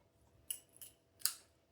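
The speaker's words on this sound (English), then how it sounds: "grab my scissors." Three quick, bright scissor snips cutting ribbon for a handmade card, close and crisp with short pauses between them, in an otherwise quiet room.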